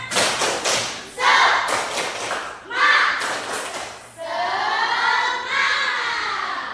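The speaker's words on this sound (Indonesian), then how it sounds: "Ibu minta kalian untuk tepuk semangat dulu, ya" A school class performs a rhythmic spirit clap in bursts of loud, patterned claps and thumps, with the children's voices chanting along in unison between and over the beats.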